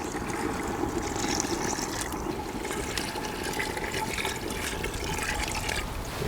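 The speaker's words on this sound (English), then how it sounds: "We'll just cover this up with water." Water pours steadily into a clay pot holding lamb shanks, fresh coriander and spices for outdoor slow cooking, a continuous close splashing and trickling flow lasting several seconds with no talk.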